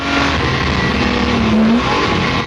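Jaguar D-Type race car sliding tail-out through a corner on a circuit, engine roaring loud and close, the pitch wavering and rising slightly through the slide before easing off at the end.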